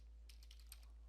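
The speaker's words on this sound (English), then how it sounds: "and then hit enter on your keyboard." A few quick keystrokes tap on a computer keyboard, soft and close in a quiet room, lasting only about a second.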